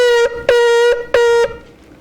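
A shofar blown in Rivam-style shvarim: three sustained, reedy horn blasts separated by short gaps, loud and close, fading into quiet at the end.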